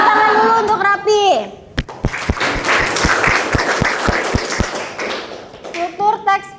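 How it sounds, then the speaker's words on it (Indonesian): A classroom of students claps for a classmate, a burst of applause with a run of sharp, rhythmic claps between the voices of a teacher and children talking. "Tepuk tangan dulu untuk Rapi"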